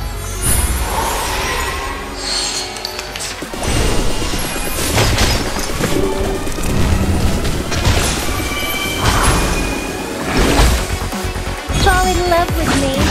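Loud, dense Reverse: 1999 game audio with repeated booming explosion crashes and thuds, layered with music and effects throughout.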